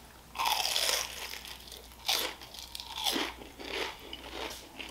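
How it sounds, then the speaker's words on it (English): Loud, close crunching of several crisp bites in a row, each a sharp crackly burst followed by chewing, with no talk. "the key to a good onion ring, in my humble opinion, is that crunch"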